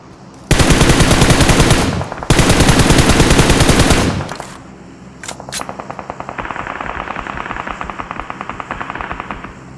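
Gunfire in the mobile battle-royale game PUBG Mobile on the Miramar map: two long, loud bursts of rapid automatic fire close by, then a quieter, steadier run of fire that continues to the end.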